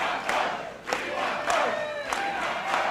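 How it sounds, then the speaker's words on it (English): A large crowd at an outdoor presidential campaign rally cheering and shouting, a dense roar with rising whoops and yells, sustained and fairly loud throughout. "What a crowd."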